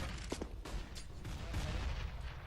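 Grenades thrown into main during a Counter-Strike match, heard at a distance as quiet, sharp pops and bursts scattered over a low, steady background rumble.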